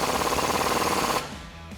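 Rapid mechanical rattling of a tool tightening a suspension bolt with a 21 mm socket and 15/16 nut on a 2006-2018 Ram 1500, loud and continuous for about a second before cutting off abruptly.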